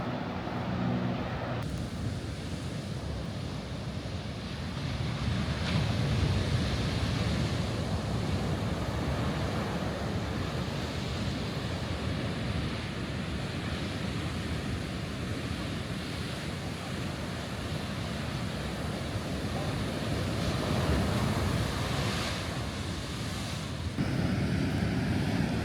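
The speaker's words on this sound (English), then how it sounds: "Intermittent waves of unusual size and force." Ocean surf breaks on the shore at Half Moon Bay, California: a steady, dense roar of waves that goes on without a break, with wind buffeting the microphone and no voices.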